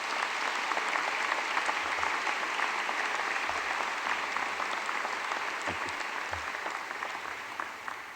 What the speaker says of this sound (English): May we have a round of applause for these folks.